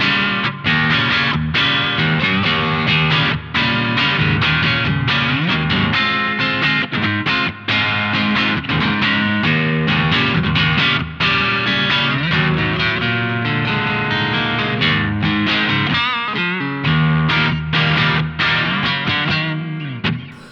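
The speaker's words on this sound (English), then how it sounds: "wind the gain up to 2/3 and get a proper raucous distortion sound" Electric guitar played through a T-Rex Dr Swamp distortion pedal, a rock amp-in-a-box style drive, giving a loud, dense, raucous distorted tone with continuous chords and riffs throughout, no talking.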